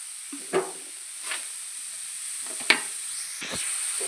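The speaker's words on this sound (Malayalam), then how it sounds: "നെയ്യ് ഒന്ന് ചൂടായി വരുമ്പോഴത്തേന് അതിനകത്തോട്ട് നമുക്ക് ക്യാരറ്റ് ഇട്ട് കൊടുക്കാം ഇതിലോട്ട് നമുക്ക് പഞ്ചസാര ഇട്ട് കൊടുക്കാം" Grated carrot and sugar sizzle softly in hot ghee under a faint steady hiss, with a few short scraping stirs of the spoon heard close by.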